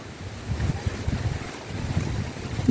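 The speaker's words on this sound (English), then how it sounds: "It is super windy over here today." Strong gusty wind buffets the microphone outdoors, a close, rumbling roar that swells and eases with the gusts, with no voice heard.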